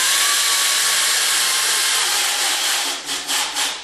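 A power driver whirs loudly and steadily close by while sinking 1 1/4-inch exterior screws into a wooden garage workbench lap joint, then ends in a few short pulsing bursts.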